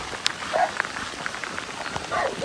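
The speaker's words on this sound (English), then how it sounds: "Again it started raining." Rain patters steadily onto surfaces on a tea estate trail in Sri Lanka, with soft continuous hiss and scattered close drips standing out, heard alone without talk.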